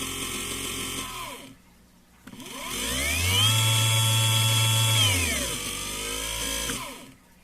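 A BOMA inrunner motor spins up with a soft start to full speed, holds a steady high whine, then winds down and stutters as it freewheels, loud and close with rising and falling tones and no talk.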